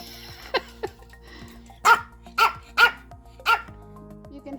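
A puppy barks four times in quick succession, loud and close, after a couple of softer yips, with quiet room sounds around it.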